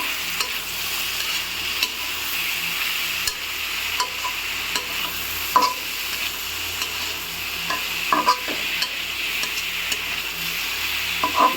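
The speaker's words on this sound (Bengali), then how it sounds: "কালো জিরেটা একটু তেলে ভেজে নেব। এখন সবগুলো পটল দিয়ে মিশিয়ে দিব।" Pointed gourd frying in oil with nigella seeds, a steady close sizzle with occasional spatula scrapes and taps as the pieces are stirred.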